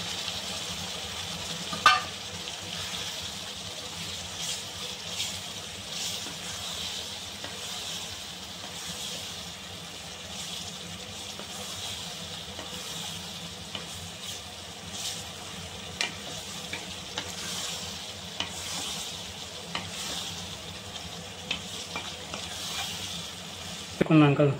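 Carrot pieces and boiled peas fry and get stirred in a pan for egg rice, giving a steady sizzle with occasional scrape and clink of the spoon, while a voice talks over it.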